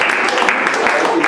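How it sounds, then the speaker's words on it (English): A live show audience giving a round of applause, a steady mass of clapping close and fairly loud, with some voices mixed in. "Everybody give Doug a big round of applause for helping us with this."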